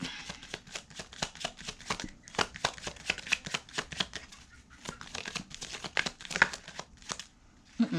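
Tarot cards shuffled by hand during a chakra reading, a close, steady run of crisp riffling and slapping card sounds with short pauses, ending in a brief burst of handling noise.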